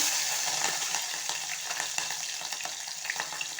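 Cumin seeds and green chilies crackle and sizzle in hot oil for a Telugu curry, a bright, dense, continuous spitting fry heard close up with no voices.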